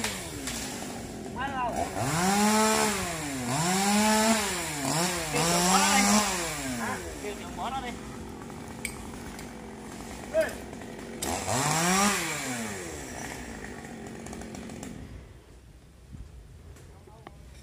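A chainsaw revs and bogs down repeatedly as it cuts into a coconut tree trunk, loud and close, pausing then surging again before dying away; faint voices nearby.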